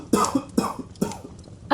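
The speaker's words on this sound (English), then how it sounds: "A cough. Did I hear a cough?" Three sharp coughs in a row, evenly spaced and close by, followed by the start of a fourth.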